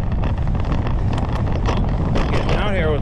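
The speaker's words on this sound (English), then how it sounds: "You probably hear a lot of wind whipping." Strong wind buffeting hard against the microphone while biking the Pleasure Bay loop in South Boston, a constant loud rumbling roar with gusty flutters throughout.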